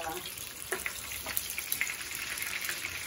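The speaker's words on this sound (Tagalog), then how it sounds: "Tapos dyan natin ipiprito yung tuna." Soft crackling and sizzling with scattered pops as tuna fries in butter in a pan, fairly quiet and steady throughout.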